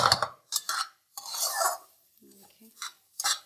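A spoon scrapes and stirs almonds frying golden in a pan for badam halwa, in short bursts of metallic scraping separated by brief pauses, close and fairly clear.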